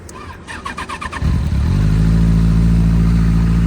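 A Benelli TNT 600i inline-four motorcycle with a dB killer fitted to its exhaust sputters through a few quick cranks, catches, then settles into a steady, loud, deep idle.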